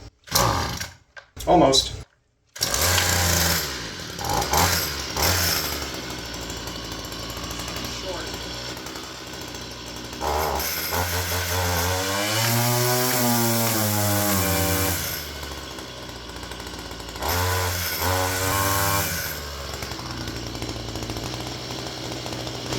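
A small gas string trimmer engine is pulled over with a few sharp cord yanks, then catches and runs, buzzing loudly up close with rising and falling revs as the throttle changes; a brief spoken word is heard.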